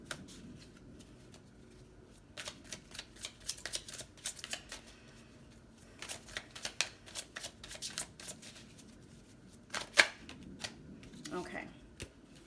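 Tarot cards shuffled by hand in repeated crisp riffling bursts with pauses between, fairly quiet, with soft talk at times.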